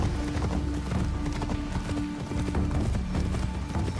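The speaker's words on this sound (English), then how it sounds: "The horse riding mechanism has improved a lot." Horse hooves clip-clop steadily through the busy fields of feudal Japan in Assassin's Creed Shadows, with rapid galloping beats and an occasional whinny over a dense, loud game soundtrack.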